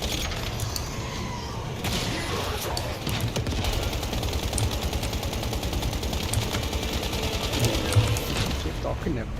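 Rapid automatic gunfire from a shooter video game, a dense continuous rattle of shots that runs steadily throughout at fairly high level, with a voice speaking underneath.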